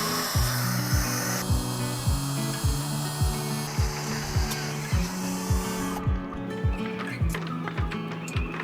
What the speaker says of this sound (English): hand drilling in stainless steel is no walk in the park